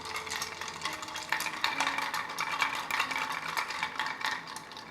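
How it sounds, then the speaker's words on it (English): A Tuxedo cocktail is stirred over ice in a mixing glass, making a continuous, busy rattle of cubes clinking against the glass for several seconds without any talk. "I'm stirring this super loud."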